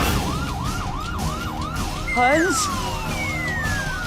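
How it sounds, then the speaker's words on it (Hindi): A police siren wails in a steady rising-and-falling cycle, loud and continuous, heard from a housing society compound, with a brief burst of honking or a second siren tone crossing over it midway. "पुलिस की सायरन की आवाज सोसाइटी कंपाउंड से आ रही है।"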